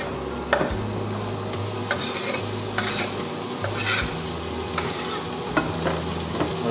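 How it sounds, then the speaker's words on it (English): Onions and chopped green peas frying in butter in a pan as they are stirred, a steady close sizzle under repeated scraping stir strokes, with no talking. "Throw these onions and peas in."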